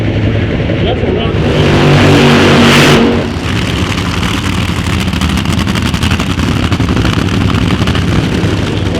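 A Funny Car drag racing car blasts at full throttle in an NHRA pit area, a loud close roar for about three seconds before settling into a lower rumble, with talk over it.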